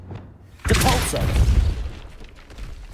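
A Depulso spell cast in Hogwarts Legacy bursts in suddenly as a loud, close boom with a crashing, shattering tail that slowly fades, preceded by a quiet low rumble.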